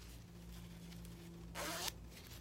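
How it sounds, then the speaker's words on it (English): A nylon clothing zipper being pulled closed in one short, quick, close zip, alone against a quiet room hum. "Yeah, it's a nylon zipper."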